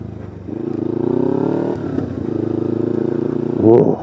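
A Kawasaki Ninja 300 motorcycle riding off, its engine rising through a steady throaty drone with a short dip, then a sharper rev near the end, close and loud.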